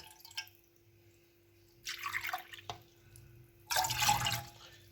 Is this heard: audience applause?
no